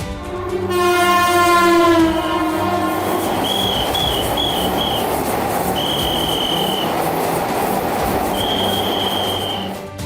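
A Vande Bharat train on its trial run in Kashmir rumbles past loudly, sounding a long horn at the start, followed by steady wheel noise and several high-pitched wheel squeals.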